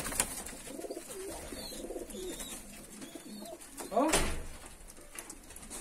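Fighting pigeons (Georgian tumbler breed) coo repeatedly in a loft, soft rolling calls scattered across the stretch, with a louder burst of fluttering or scraping noise near the end.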